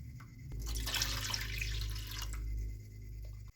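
Water is poured from a cup into a pan of sugar while making Bombay halwa, a steady splashing stream that runs for about three seconds and then stops abruptly.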